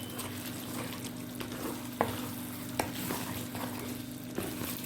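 Chilli chicken ingredients being stirred and mixed in a frying pan, a steady sizzle running throughout with a few sharp clicks of the spoon against the pan, close and moderately loud.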